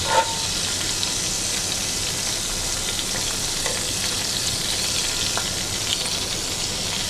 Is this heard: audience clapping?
no